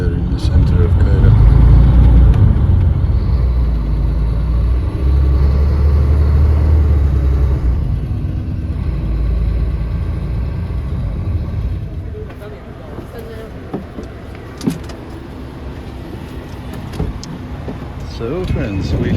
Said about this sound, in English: We are driving through Cairo already, about 10 minutes, and we will be in Tahrir Square in the center of Cairo.